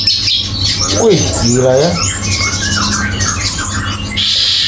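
A Long-tailed shrike (pentet) of Sumenep, Madura stock, squawks and chatters in harsh rising and falling calls over steady background noise, with someone speaking briefly nearby.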